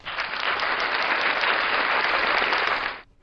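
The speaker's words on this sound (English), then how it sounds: "It's an applause because it's a true fact." Live podcast audience breaking into steady, dense applause that fills the room for about three seconds and then cuts off abruptly.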